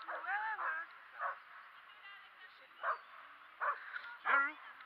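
A dog gives a handful of short, high yipping barks and whines in separate bursts, fairly close and clear against a quiet background.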